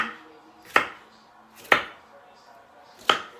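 Three sharp knife chops through vegetables on a cutting board, spaced evenly about a second apart, close and crisp with quiet pauses between.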